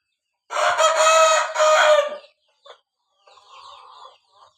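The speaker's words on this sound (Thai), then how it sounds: "ไก่หนุ่ม" A six-month-old young rooster of about 2.4 kg crows loudly and close by in one long, strained call lasting nearly two seconds, followed by a few softer clucks and a fainter trailing call.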